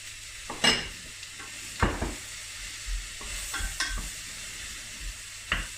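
Onions and mushrooms cooking in a pan, with scattered scraping stir strokes and brief clatters over a faint, steady sizzle, fairly quiet and close with no talk.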